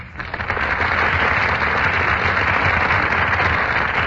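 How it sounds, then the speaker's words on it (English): A studio audience at a Screen Guild Theater radio broadcast applauds steadily as actors Brian Aherne and Joan Fontaine enter, a dense, even roar of many hands that swells in during the first half-second and then holds loud without talk. "That burst of applause, ladies and gentlemen, is for Brian Ahern and Joan Fontaine"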